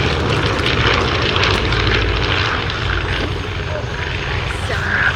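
An Avro Anson Mk 1 flies over at the RAF Cosford airshow. Its piston engines make a loud, steady, rumbling drone that holds throughout and fills the whole scene.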